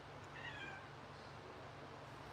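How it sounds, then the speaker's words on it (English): A calico cat gives a single short, faint meow against a quiet indoor background hum. "Come back here, little Calico Kitty."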